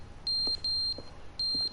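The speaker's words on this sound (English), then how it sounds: "I think that's the fire alarm thing." A fire alarm in a video game sounds in three shrill electronic beeps of even pitch, each lasting about a quarter second, close and loud, with faint clicks in between.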